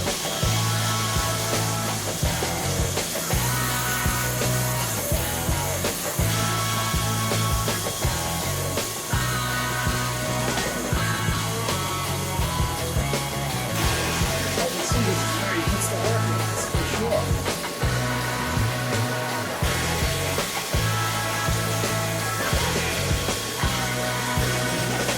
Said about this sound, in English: It takes a lot of grinding to balance it